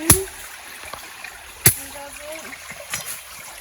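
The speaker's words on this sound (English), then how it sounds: "Beautiful spring." Spring water trickling on a Jamaican coffee farm, a faint steady flow with a few sharp knocks and splashes, and a voice speaking briefly in the background.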